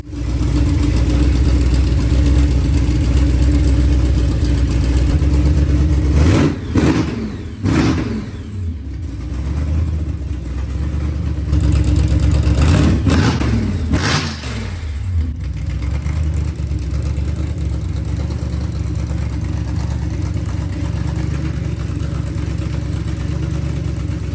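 A supercharged 1956 Chevy engine idles with a steady, loud, rumbling drone, broken by a couple of short throttle blips and revs around the middle before it settles back to an even idle.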